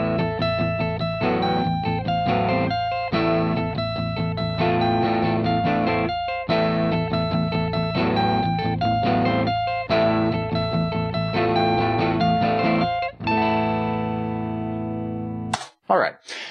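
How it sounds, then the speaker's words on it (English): Recorded electric guitar lines played back in Reaper, effected and distorted with chorus and reverb, weave steady melodic riffs up close, then ring out and fade before an abrupt cut near the end. "I've already recorded a couple of guitar lines."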